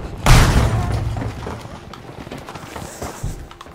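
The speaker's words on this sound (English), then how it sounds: "Oh, throwing grenades at me." Grenade explosions in the Battlefield V video game: a loud, close blast bursts out early, its rumble trailing off, and a smaller burst follows near the end, with no talk.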